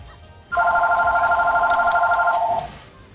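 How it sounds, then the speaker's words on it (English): A phone rings with a steady electronic warbling tone for about two seconds, loud and close, then stops abruptly over a quiet background. "Phone call, really?"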